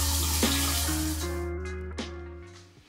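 Water from a running shower rushes steadily with a broad hiss, fading slightly over a few seconds, with a faint steady tone underneath and a couple of small knocks.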